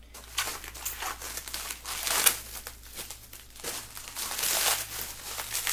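Shrink-wrap plastic being peeled and crinkled off a boxed Dazzle DVD Recorder HD capture card, a close, continuous rustle with sharper crackling bursts throughout and no talking.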